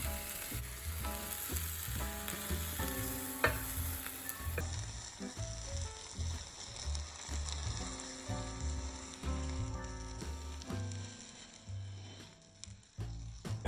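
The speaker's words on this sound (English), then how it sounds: "Let's now proceed to move the omelet back to the center of our pan just for 1 more minute." An egg omelette fries in a pan, a continuous close sizzle with frequent clicks and scrapes as it is moved around, fairly quiet overall.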